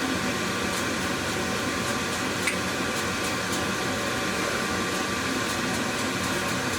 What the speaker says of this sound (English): the compressor's holding up pretty well with it